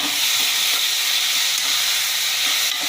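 Chicken gravy masala with tomato, curry leaves and coriander sautés in a pan, giving a steady, close, loud hiss and sizzle that holds without a break and with no talking.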